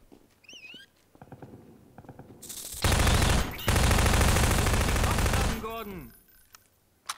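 Sustained burst of automatic gunfire in the video game Half-Life 2, a loud dense volley of about three seconds with a brief break, preceded by scattered shots and game sounds and followed by a rising electronic whine.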